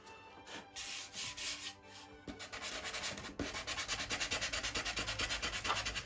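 Sandpaper wrapped around a dowel rubs back and forth over wood, a close, soft rhythmic scratching in steady strokes that quickens into a fast even rasp.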